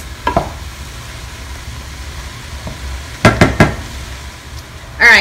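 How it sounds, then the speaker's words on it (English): Turkey cactus chili simmers in a pot, a low bubbling hiss broken by several sharp spoon scrapes and clatters against the pot, with a brief voice near the end. "And you stir all of that. And let it cook for another 3 to 5 minutes."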